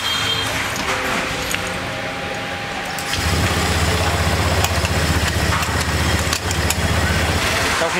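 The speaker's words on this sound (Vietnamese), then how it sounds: "bây giờ mình sẽ gá vào chiếc xe và mình cho nổ máy xem" A faulty Honda Vario motorcycle engine with ECM problems starts after a few quiet seconds, then settles into a steady, rumbling idle nearby.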